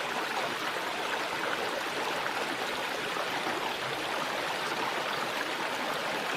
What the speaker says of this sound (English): I mentioned how I wanted to bring you out, to the babbling brook. Here it is.